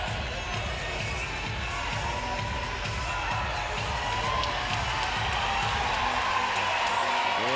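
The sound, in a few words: loud crowd cheering at women's basketball game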